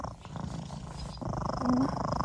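A cat purrs close by in a steady, low, continuous rumble that grows slightly louder toward the end, with no talking over it.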